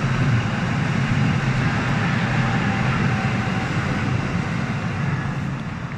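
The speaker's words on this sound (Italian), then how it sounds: "Adesso sta passando un treno intanto" A train rolling past in the Val di Sole valley, a loud continuous rumbling roar of wheels and cars that holds steady for the whole stretch and eases slightly at the end.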